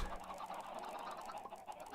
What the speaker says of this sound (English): let's tend to the chickens